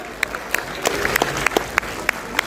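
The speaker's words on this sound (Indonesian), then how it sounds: "Teman-teman kita berikan tepuk tangan sekali lagi dong teman-teman." An audience applauds at a film gala premiere with sustained clapping, a dense crowd patter broken by sharper individual claps, close and fairly loud.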